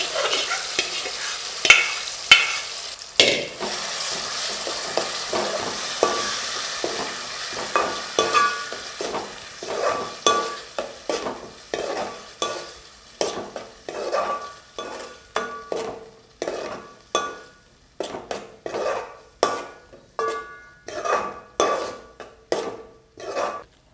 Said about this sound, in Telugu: ఇప్పుడు దీంట్లో ఇందాక ఉడకబెట్టిన టమాటా వేసేసుకుందాం.